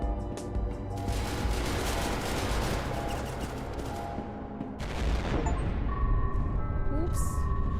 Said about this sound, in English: I hear gunshots.